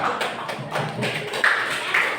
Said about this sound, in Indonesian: tepuk tangan untuk kelompok 3. Tepuk tangan dong untuk kelompok 3